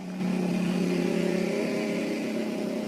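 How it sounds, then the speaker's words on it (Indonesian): A motorcycle drives past with a steady, droning mid-pitched engine that holds at an even loudness throughout, with no talking. "Dan motor lewat."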